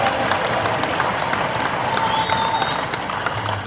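Steady, dense applause fills a hall during a public dialogue event with a presidential candidate in Indonesia, a large crowd clapping continuously with some distant murmuring mixed in.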